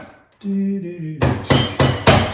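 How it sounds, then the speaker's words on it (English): Four loud, sharp metallic hammer blows on a Ford ZF6 transmission part ring out in quick succession after a brief humming tone, each strike close and resonant. "It's hammer time."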